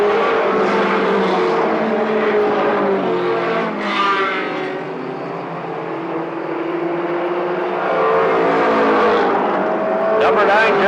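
Race car engine running rough during a laps race, a loud continuous drone of engines with an uneven, wavering tone, close and sustained, with an announcer talking over it.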